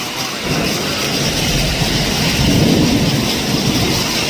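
Hail pours onto a metal roof sheet during a storm in Pune, making a loud, dense, continuous roar of rattling impacts that stays steady throughout.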